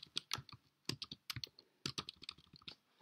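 Keys clatter on a computer keyboard while someone types a command to install software packages on a Raspberry Pi Zero W, bursts of close clicks coming in uneven runs with short pauses between them.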